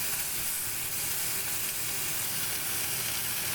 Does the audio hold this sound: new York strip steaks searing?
yes